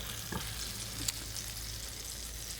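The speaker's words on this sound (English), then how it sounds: "just kind of stir that around" Peach mixture with honey stirred in a pan, giving a soft, steady sizzle with faint scraping and one brief clink, alone and fairly quiet.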